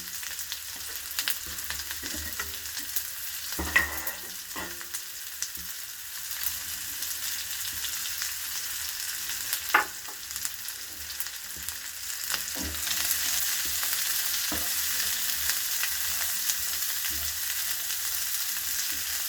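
Spiny gourd (boda kakarakaya) pieces fry in hot oil tempering, a continuous close sizzle broken by occasional sharp clatters of a spatula stirring the pan.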